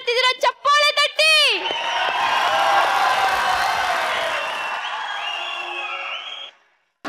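A studio audience at a comedy show breaks into clapping and cheering right after a short spoken line, loud and sustained for several seconds before fading out.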